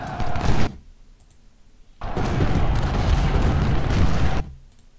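Artillery and gunfire from the Grand Battle of Gettysburg in Ultimate General: Civil War: a short booming burst, a quiet pause, then a longer sustained roll of rumbling cannon and musket fire that cuts off.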